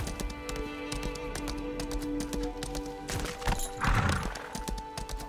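Rhythmic clip-clop of horse hooves at a quick pace with a horse's whinny in the video game Lost Ark, fairly close, no talking.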